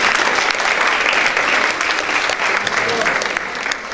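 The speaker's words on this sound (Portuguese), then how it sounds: "Uma salva de palmas para a coordenadora da licenciatura em Educação." An audience applauds the coordinator of the Education degree at a social education event: dense, steady clapping from a large crowd that fills the whole stretch, tapering slightly toward the end.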